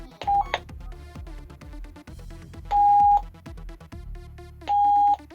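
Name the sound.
Jet mini radio playing after repair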